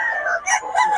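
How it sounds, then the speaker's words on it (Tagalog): A Sure Brown Red gamefowl rooster crows loud and close in one sustained call, strong and alone with no talk over it. "SBR, Sure Brown Red mga idol ni Boss Tony."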